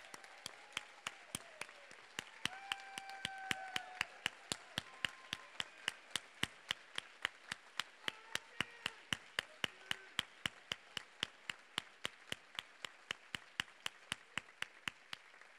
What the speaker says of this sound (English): we can applaud to what you did for us